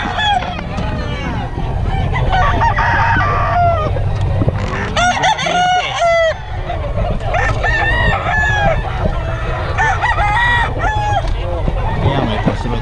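Many bull stag roosters crowing at a busy Bocaue poultry market, overlapping calls and clucks from several birds close by, continuous and loud, with people talking in the background throughout.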